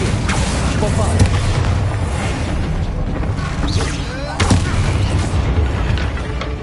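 A Bombarda spell explosion in a Harry Potter video game, with loud booming blasts and crackling impacts over a dense rumbling background and speaking voices.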